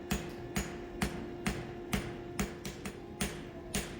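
Farrier forging a hind horseshoe, hammering out the toe on an anvil: steady, evenly spaced hammer blows ring out close and loud, about two strikes per second over a faint background hum, with no talk.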